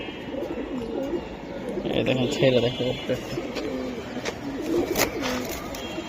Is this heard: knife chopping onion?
no